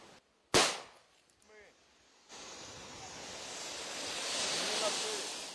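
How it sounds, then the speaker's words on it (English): A single sharp practice grenade blast cracks out early at a military training centre, followed by quiet murmuring voices, then a steady rushing noise like wind or surf that fills the rest. "You heard the explosion. You see the smoke. That's the practice grenade."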